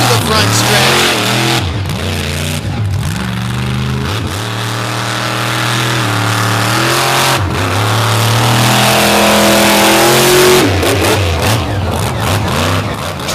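A monster truck's engine roars and revs loudly and continuously while racing a swamp mud track, its pitch rising and falling through throttle changes over roughly thirteen seconds.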